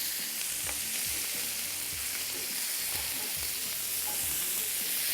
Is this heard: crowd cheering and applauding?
no